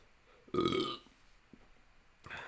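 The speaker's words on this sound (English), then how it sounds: "Oops, I didn't mean to burp." A short, loud burp lasts about half a second, with faint noises and a quieter voiced sound after it.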